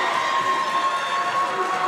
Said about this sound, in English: it's the Rockmart side cheering for their girls who were done for the night